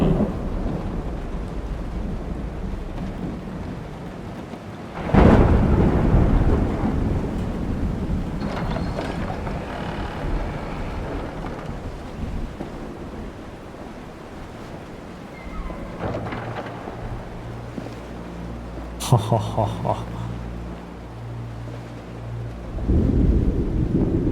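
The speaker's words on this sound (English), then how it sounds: "It's raining too. There's a thunderstorm." A thunderstorm with rain in Kingdom Come Deliverance 2: deep thunder claps and long rolling rumbles over a steady wash of rain, with a few sharp cracks and mechanical clatter in between.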